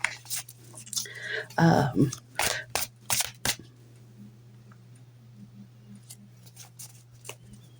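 Tarot cards are shuffled by hand in a quiet room, a few short papery riffles and taps close by over a low steady hum, then trailing off into near silence.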